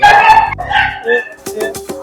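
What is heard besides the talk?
dog barking and whining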